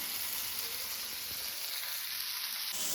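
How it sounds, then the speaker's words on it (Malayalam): Food fries in a pan with a steady, even sizzle that stays loud and continuous throughout, with no voices. "അപ്പോൾ അത് ഫ്രൈ ആവട്ടെ."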